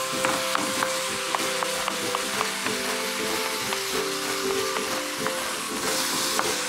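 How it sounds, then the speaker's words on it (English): Chili mince sizzles loudly in a sapphire-coated non-stick pan while being mashed and stirred, with a constant frying crackle punctuated by regular light taps and scrapes of the utensil. "Once you start here, a sizzle actually, you do need to get into your mince and give it a stir"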